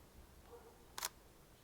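A single-lens reflex camera fires its shutter for a half-second exposure, giving a faint click followed half a second later by a sharper closing clack, clear against a quiet room.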